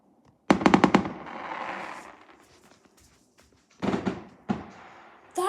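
Fireworks go off outdoors in December, heard from indoors as a rapid crackling burst of pops, then a long rumbling decay, followed by two more sharp blasts and a final bang.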